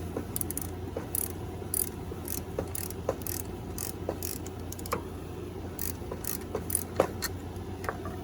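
A ratchet clicks steadily as a long bolt is backed out of the exhaust manifold area on a 2005 Nissan Altima, with repeated close, crisp pawl clicks over a low background hum.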